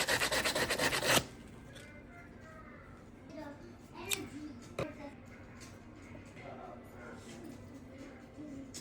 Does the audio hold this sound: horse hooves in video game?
no